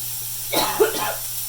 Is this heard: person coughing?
yes